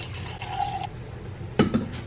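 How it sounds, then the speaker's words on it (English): Water poured into a portable dog water bottle, a brief trickling fill followed by a couple of sharp plastic clicks and knocks as it is handled, fairly close and with no talking. "I'm gonna fill up his little water thing"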